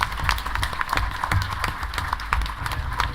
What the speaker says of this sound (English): get a round of applause for Nicole Oliver